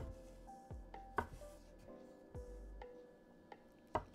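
A knife chops a rolled stick of dumpling dough into small pieces on a board, giving about eight sharp, separate taps at an uneven pace, close and fairly quiet.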